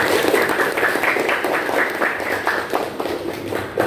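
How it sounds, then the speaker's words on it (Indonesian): Clapping from a group of students at an Indonesian school class session after an anti-corruption slogan, a moderate scattered patter of hands that holds steady before easing off. "Tepuk tangan buat itu"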